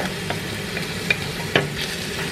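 Ginger going into a hot frying pan gives a steady low sizzle with a couple of sharp clinks from utensils against the pan, fairly quiet and close, with no talking.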